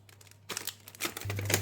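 A plastic food bag, the kind used for rice or pasta, crinkles in quick bursts as it is folded and closed with a plastic clip, close and fairly quiet over a steady low hum.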